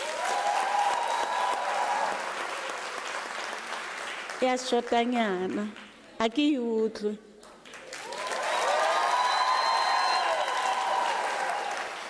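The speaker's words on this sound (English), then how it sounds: "Can you give her a round of applause?" University graduation ceremony audience applauds in a large hall, a steady wash of clapping that breaks off midway for a few spoken words and ululating calls, then swells again with cheering.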